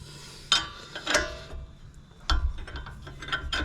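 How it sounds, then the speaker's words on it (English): A spanner works slowly on the front brake bolts of a Holden VZ Adventra during a pad and rotor change, giving a few close, sharp ratcheting clicks and metallic knocks spread unevenly over a few seconds, with no talking. "Trying to hold the spanner properly"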